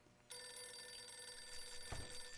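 An alarm in the Death to Spies stealth game rings continuously as a steady, bright electronic tone, loud and unbroken throughout, with a brief low thump near the end.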